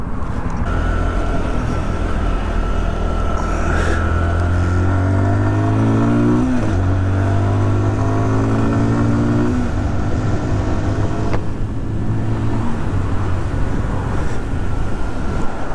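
A Zontes Mantis 125 motorcycle ridden in fifth gear, its engine droning steadily up close with a rising and falling pitch as it pulls and eases, wind rush beneath, and no talk.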